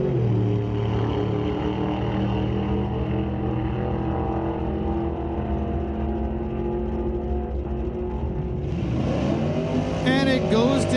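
At a drag strip a 1991 Mustang runs against a Pinto, loud engines roaring steadily and then rising in pitch toward the end, with talk over the engine noise.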